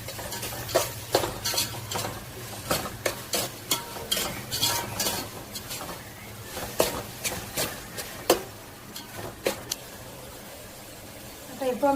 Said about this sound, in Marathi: टोमॅटो टाकले 2 मिनिट परतून घेतलेले बघा.